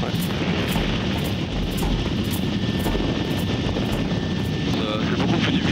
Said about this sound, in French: C'est beaucoup plus difficile pour l'hélicoptère d'approcher